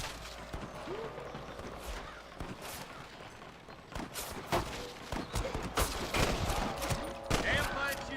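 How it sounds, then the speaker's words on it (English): Scattered gunshots from the Western video game Red Dead Redemption crack out in irregular bursts, some near and sharp, others more distant, growing denser toward the end over a steady background bed. "I can hear more gunshots"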